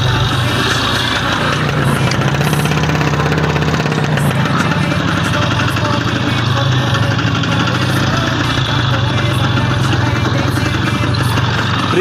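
An Izh Planeta 5 motorcycle churns through thick mud on a forest track, its engine droning loud and constant from up close with a rough mechanical rattle and no break throughout.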